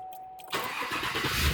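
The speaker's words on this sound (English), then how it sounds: "I'm gonna start the truck." A Chevy Tahoe engine starts after a quiet pause and a faint tone: the starter cranks, the engine catches, and it settles into a loud, rising idle close by.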